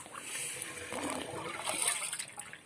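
Water drains out of an automatic, adjustable drinker after its plug is pulled, a quiet, steady trickle and light splashing that swells and fades slightly without a break.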